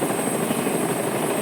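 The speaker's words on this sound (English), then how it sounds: "We have a Shinra helicopter flying" A Shinra helicopter from the video game Final Fantasy VII Rebirth flies past with a steady, dense rotor whir that holds at an even, moderate level throughout, with no voices over it.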